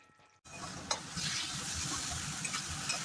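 Steady crackling sizzle of shrimp frying in a pan, starting abruptly after a brief quiet moment, with a few louder pops and occasional stirring scrapes.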